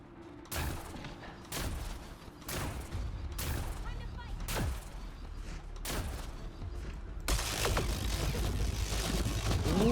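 Rapid, heavy weapon fire from a gun in Mass Effect Andromeda, a series of loud booming shots at roughly one-second intervals, close and dense, building into a sustained roar with a faint voice underneath.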